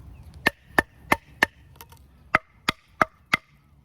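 A hot-forged, hardened leaf-spring steel machete-style knife chops into hardwood, eight loud, solid thunks in two groups of four with short pauses between, close and clear with no talk.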